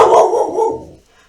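A dog barks in a quick burst of loud, close yaps that trail off within about a second, leaving near silence.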